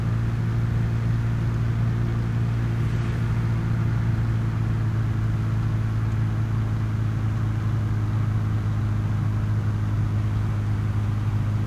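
Truck cruising steadily in Farming Simulator 2017, a low, even engine drone with a constant hum that holds at one pitch throughout and is heard alone.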